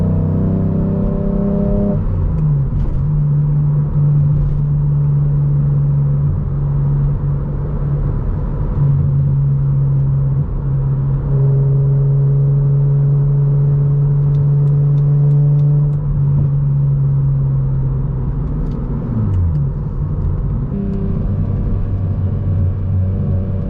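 A 2006 BMW Z4 M with individual throttle bodies accelerates hard from inside the cabin, its engine droning and rising in pitch through several gear changes, with brief dips between shifts; loud, steady and free of talk.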